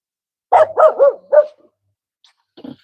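A Cocker Spaniel barking nearby, four quick loud barks in a row followed by a pause and a softer short bark or two.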